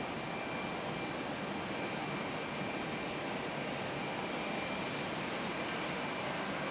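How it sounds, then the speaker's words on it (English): An Airbus A319 arriving from Philadelphia lands in stormy, gusty weather at Raleigh-Durham airport, its engines a steady, broad roar that holds evenly at moderate distance throughout. "our A319 coming in from Philadelphia"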